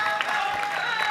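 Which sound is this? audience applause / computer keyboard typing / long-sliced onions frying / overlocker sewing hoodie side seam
audience applause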